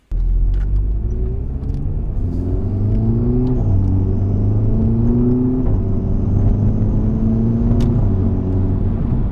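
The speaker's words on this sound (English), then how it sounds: "That's all turbo whistle." A Volkswagen MK6 GTI with a modified exhaust revs and rumbles loudly, with a rising, whining turbo whistle climbing and falling through several pulls.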